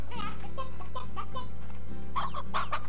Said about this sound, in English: Hello, hen. Get back in your coop.